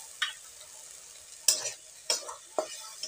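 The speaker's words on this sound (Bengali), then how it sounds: "মশলাটা ভালো করে কষিয়ে নিতে হবে, একবারে তেল ছাড়া পর্যন্ত।" Spice paste and tomato fry in oil for an egg curry, with a soft constant sizzle broken by a few sharp, separate stirring scrapes, spaced out and close by, with no talking.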